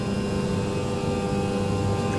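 Jet airliner engines in Microsoft Flight Simulator, on an E-Jet, hold a steady, loud, unbroken roar with tonal whine throughout, no voices over it.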